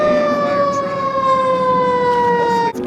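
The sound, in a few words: fire truck siren passing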